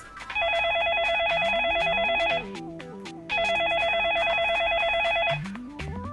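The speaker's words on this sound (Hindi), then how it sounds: "फोन लगाया जाए प्लीज" A telephone rings in two electronic bursts separated by a short gap, followed by brief tones and rumbling noise.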